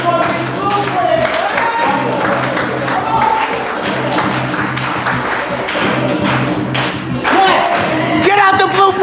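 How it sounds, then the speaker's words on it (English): An audience at a lounge performance claps along with thumps and taps under loud music, continuous and close, with a voice talking over it. "Everybody clap. For the blueprint."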